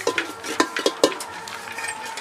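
Steel utensils clink and scrape as dishes, pots and pans are washed at home, a few sharp close knocks followed by softer irregular rattling.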